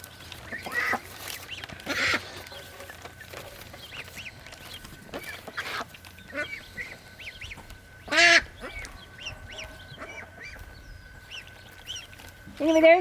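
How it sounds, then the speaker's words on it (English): Muscovy and blue Swedish ducks quack in short, loud bursts at intervals outdoors, with softer bird calls and a steady background hum between them, and a person talks quietly underneath. "the one that's quacking is a blue Swiss"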